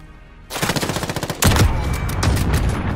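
Automatic gunfire on the Road to Damascus map in Call of Duty: a quick rattling burst of shots, then a louder, denser blast of fire that stays loud and close until the end.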